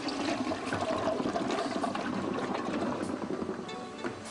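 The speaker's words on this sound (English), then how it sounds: "As this test video demonstrates, not all manufacturers' low-flush toilets are up to the challenge." An American Standard low-flush toilet flushes during a test, with a loud continuous rushing and gurgling of water that swirls for several seconds before gradually easing.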